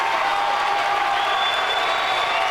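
A high school boys' basketball crowd jeers and roars at a player who has just fouled out, a steady loud wash of voices and noise in a gym.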